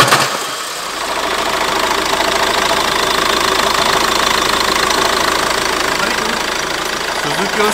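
A Renault car engine idles with a steady, loud knocking clatter, like a valve that is not closing, running continuously and close up.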